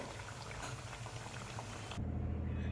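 Dal vadas fry in very hot oil, giving a dense, even bubbling sizzle up close that swells a little louder and deeper partway through, with no voices.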